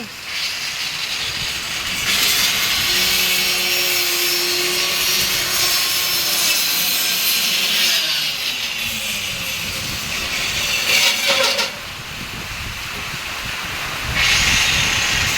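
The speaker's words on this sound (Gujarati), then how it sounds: "પવન પણ બહુ લાગી રહ્યો છે." Strong wind roars and gusts through a rainstorm with thunder and lightning, a loud, continuous rush that swells and briefly eases near the end before surging back.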